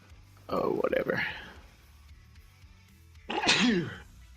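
A single sharp sneeze bursts out up close, followed a few seconds later by a second explosive, throat-heavy sneeze or cough, with quiet room tone between them.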